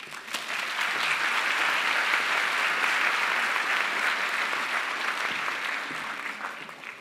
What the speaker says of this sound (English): can we do another energetic clap for our guests?